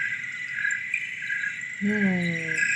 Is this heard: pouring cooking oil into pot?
no